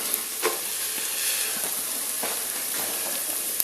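Garlic and onions sizzle steadily in a frying pan for chilli con carne, a constant close crackle with a few sharper pops as more ingredients drop in.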